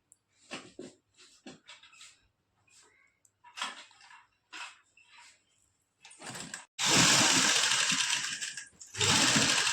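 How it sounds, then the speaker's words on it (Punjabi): A domestic sewing machine stitches lace onto a suit, starting with short stop-start bursts and then running loud and sustained, close to the listener. "ਜਿੱਥੇ ਕਰੀਜ਼ ਬਣਾਈ ਹੋਈ ਆ ਉੱਥੇ ਉੱਥੇ ਆਪਾਂ ਸਲਾਈ ਲਗਾਵਾਂਗੇ"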